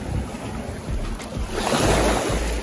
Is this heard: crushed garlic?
no